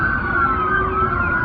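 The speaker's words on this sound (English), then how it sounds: "why are they just letting the police sirens run the entire time?" Police sirens outside a Miami mall sound a loud, continuous electronic tone that holds steady through the moment, with no talking.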